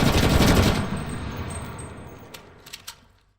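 A PPS-43 submachine gun in a video game fires a loud rapid burst, then the echo tails away, followed by a few faint metallic clicks and rattles.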